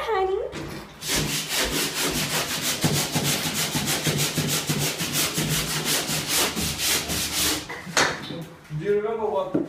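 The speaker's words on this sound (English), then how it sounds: "get it as smooth as I can with the sandpaper and the block" A wall is sanded by hand with sandpaper on a block, loud close rhythmic back-and-forth scraping strokes running steadily, with voices briefly at the end.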